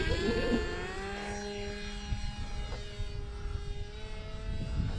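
A Value Hobby Condor X-75 RC plane flies on a windy day, its motor giving a steady droning whine that slides in pitch as it passes, over constant wind rumble with no talk.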